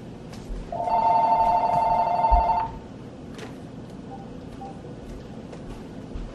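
A telephone rings with a bright, trilling electronic bell in one sustained burst of about two seconds, loud and close over a room's low background murmur, then stops.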